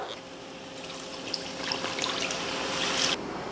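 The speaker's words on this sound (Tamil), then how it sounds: "இப்போ தண்ணி சேர்த்துடலாம்" Water is poured into egg curry masala in a cooking pan, a continuous trickling pour lasting a few seconds with faint splashes and sizzling, stopping abruptly near the end.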